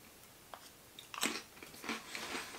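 Crisp bites into a very thin, crunchy chocolate snack from a South American snack box, a few sharp crunches followed by quieter chewing, close and fairly soft, with no talking.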